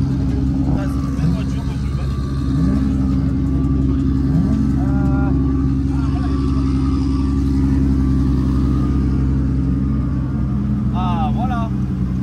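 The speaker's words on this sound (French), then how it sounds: "Vous allez voir drifter un peu" A car drifts with its engine revving in steady loud drones and rising whines, near and continuous, as people talk over the noise.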